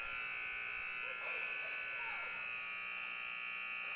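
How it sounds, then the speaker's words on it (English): A steady, continuous electronic buzzer at a hockey game drones throughout, stuck on, with faint voices briefly audible beneath it. "we have a delayed buzzer"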